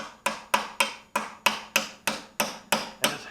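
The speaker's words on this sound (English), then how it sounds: "hammering this chisel into that split" A hammer drives a chisel into the split collar of a front control arm from a 1976 Chevy C10, about a dozen sharp metallic strikes in an even, steady rhythm, close and with no talk.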